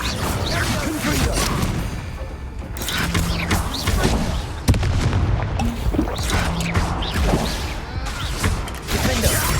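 Explosive blasts and crashing impacts from Confringo and Bombardo spells in a Harry Potter video game, repeated booms and whooshes amid mechanical clatter, with brief character voices between them.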